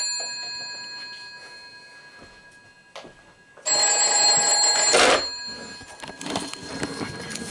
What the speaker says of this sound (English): you should hear the phone over there ring